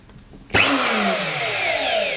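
A Parkside router switches on abruptly after a near-silent moment, its motor spinning up with a sharp whine and then running steadily and loudly, with no talk over it.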